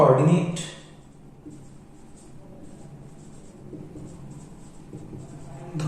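A pen scratches across a board, faint and steady, after a short louder burst at the start, with a few soft strokes spread over several seconds.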